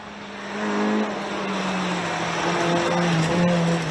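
A rally car accelerating hesitantly on a stage at the TGR Rally Shibukawa Ikaho SS2: a steady engine drone whose pitch climbs slowly and wavers, fairly close, with no voices.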